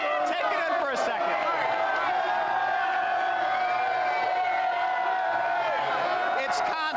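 Baseball fans cheering after the Chicago White Sox World Series win, a loud, constant roar of crowd noise with whoops and shouts throughout.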